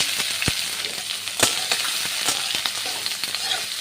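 Chopped onions fry in a pan with whole spices (cardamom, cinnamon, mace, black cardamom), a steady close sizzle broken by occasional sharper crackles and stirring scrapes.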